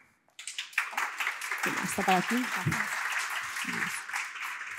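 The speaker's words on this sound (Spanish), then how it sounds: "Así que un aplauso para todos ellos." An audience at a Spanish-language humanitarian panel discussion on migration applauds, moderate clapping that builds after a short pause and continues throughout, with voices talking over it.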